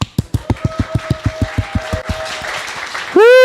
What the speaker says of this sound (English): Could you please give me some applause?